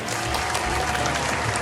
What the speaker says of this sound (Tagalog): Yung palakpak ni Kuya August